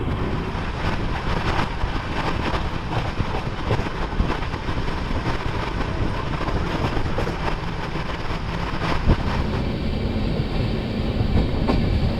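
The Azimabad Express, an Indian Railways train running from Ahmedabad toward Patna, rolls along the rails. A loud, continuous rumble of wheels and carriages with clickety-clack beats is heard from on board the whole time.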